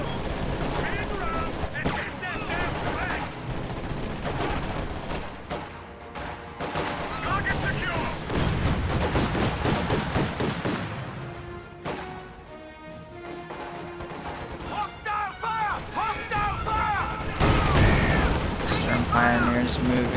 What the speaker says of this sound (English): What is that Rakettenwerfer shooting at?